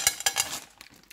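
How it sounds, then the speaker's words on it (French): M&M's candies dropped into a frying pan, a few quick bright clattering clicks in the first half second before fading to faint rattles, close by with no voices. "On va venir déposer des M&M's dans la poêle."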